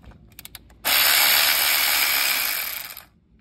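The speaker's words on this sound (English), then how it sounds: "I'm going to remove the 8mm bolt" A ratchet loosening 8mm bolts on a Ford Expedition during spark plug work, a few faint clicks and then a loud, fast continuous ratcheting burst lasting about two seconds, up close.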